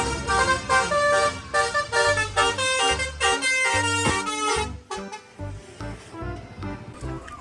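A toy telolet bus horn plays a bright, tooting melodic tune in repeated rising and falling notes. It is loud and close, then grows quieter and choppier in its final seconds.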